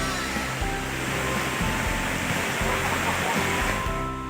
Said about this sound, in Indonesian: Seperti inilah pesona air terjun Bayangsani.